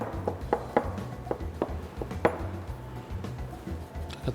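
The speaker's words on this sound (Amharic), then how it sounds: "በቢላ አድቀን እንከትፋለን" A knife chopping boiled eggs on a board for a tuna pancake filling, making a steady run of close, sharp taps about two or three per second, with soft kitchen rumble beneath.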